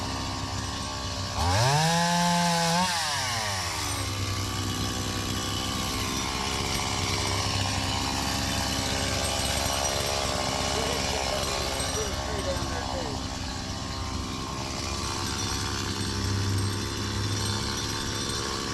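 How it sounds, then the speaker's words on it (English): A chainsaw cutting trees during brush clearing on an overgrown lot revs up sharply near the start, then runs as a loud, continuous engine drone for the rest of the stretch. "We ended up cutting some trees."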